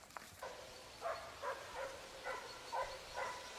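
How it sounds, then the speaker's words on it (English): Hunting dogs bark during a wild boar hunt in dry grass, a series of about six sharp, evenly spaced barks sounding from a distance over a faint, steady background. "From a distance, sharp barking and the harsh rustling of dry grass signal that the target is closing in"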